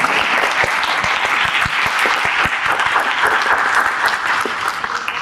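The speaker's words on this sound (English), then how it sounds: "And give them a round of applause." A conference audience applauds a youth panel at a symposium, with sustained close clapping where individual sharp hand claps stand out over the crowd's steady wash, no speech over it.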